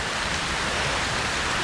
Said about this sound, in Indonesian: Hujan amat deras